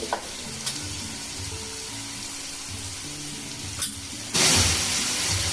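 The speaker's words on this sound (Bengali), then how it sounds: "হলুদ দিলাম ধনে গুঁড়ো জিরে গুঁড়ো" Turmeric, coriander and cumin powder sizzling in hot oil for a yogurt prawn dish, a steady frying crackle with faint clinks, then a sudden louder burst of hiss near the end.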